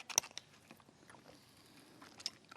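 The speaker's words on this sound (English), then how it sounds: "You're getting all these swallowing and mouth noises on the audio there." Close, faint wet mouth clicks and swallowing noises come from someone sipping NingXia Red through a straw, scattered soft smacks spread irregularly across the quiet.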